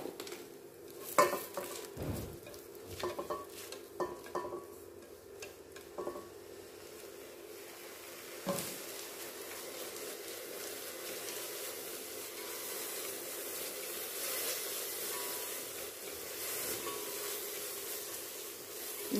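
Onion and garlic stir-fried in a pot, with a soft continuous sizzle under scraping and clinking of a utensil against the metal, strongest in the first few seconds and settling into a steady, fairly quiet frying hiss.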